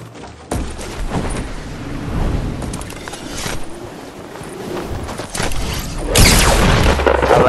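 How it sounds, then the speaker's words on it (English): Hunting-rifle shots in a first-person sniping game, loud sharp cracks with a heavy boom near the end amid a constant busy wash of game noise and movement. "I shot him in the face."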